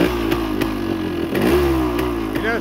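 A 1975 Yamaha DT400 two-stroke motorcycle engine running close by, a loud steady idle with a brief rev that rises and falls in the middle, then settles back to idle.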